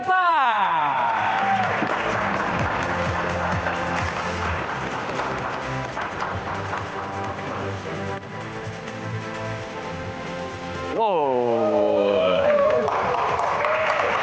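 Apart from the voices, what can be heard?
audience applause at Q&A pageant event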